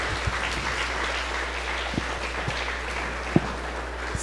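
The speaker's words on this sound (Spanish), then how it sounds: "denle un aplauso al Señor" A crowd at a church service claps steadily in a dense, even patter, with a few sharper individual claps standing out.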